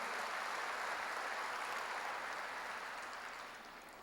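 A church congregation applauding during a Korean worship service, a broad, even rush of many clapping hands heard at a moderate distance, holding steady before fading slightly toward the end.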